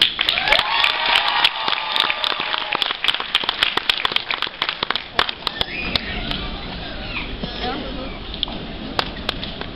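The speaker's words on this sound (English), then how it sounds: "Now we giving y'all a 10-second applause" Applause from a graduation ceremony audience, dense crackling clapping that thins out into scattered claps and fades, with voices faintly underneath.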